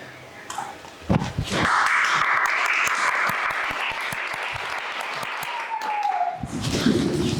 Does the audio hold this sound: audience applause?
yes